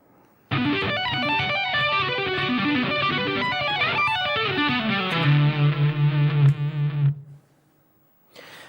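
Distorted electric guitar plays two arpeggios joined into one continuous metal solo passage, a fast busy run of notes ending on a held vibrato note, loud and alone, followed by a brief quiet gap.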